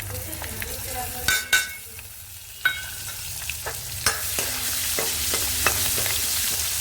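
Fenugreek seeds fry in a pan for a potato, onion and yogurt curry, giving a steady soft sizzle with a few sharp clinks and scrapes of stirring spread through it, fairly close and without talk.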